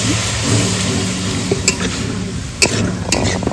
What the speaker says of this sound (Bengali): এবার একটু দুধ দিয়ে দেবো অল্প করে দুধ দিয়ে দেবো গাজরটা সিদ্ধ হওয়ার জন্য